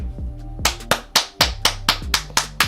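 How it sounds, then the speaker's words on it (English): Sharp hand claps ring out about ten times in a steady, slightly uneven rhythm, loud and close, with low tonal background sound underneath and no talking. "Clap it up for Cashmere. Clap it up."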